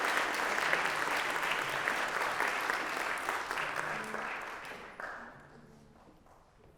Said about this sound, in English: A round of applause, please, for the Five Purple Oranges Foundation.